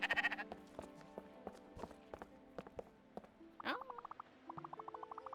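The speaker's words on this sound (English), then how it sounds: "I can get sheepies to follow me. Can I have a sheep on my boat?" A sheep bleats in the video game Spiritfarer, one clear wavering bleat followed by a short run of pulsed game notes, over soft rhythmic footstep-like taps at moderate volume.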